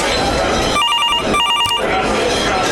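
Telephone ringing in a radio drama scene: two bursts of a trilling electronic bell, close and clear, set over a steady background hum of the production.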